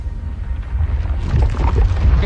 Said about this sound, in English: one of those explosions that causes everything else to explode